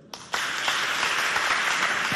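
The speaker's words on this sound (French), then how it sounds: "Applaudissez d'abord" A school audience at a Chadian high-school quiz contest bursts into sustained clapping, which starts abruptly and stays dense and loud throughout.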